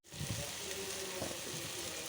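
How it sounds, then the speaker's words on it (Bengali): Spice paste and potatoes fry in hot oil for a duck-egg coconut-milk curry, a steady close sizzle with occasional stirring scrapes and crackles. "এখন এটা কষাবো, ভাজা ভাজা করবো তেলে।"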